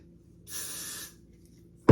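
Hairspray freeze blast applied to freshly brushed hair, a single steady hiss lasting about half a second, close and clear, followed by a sharp thump at the very end.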